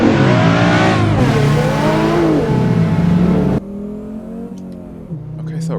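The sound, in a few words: 1994 Audi Sport Quattro five-cylinder engine accelerating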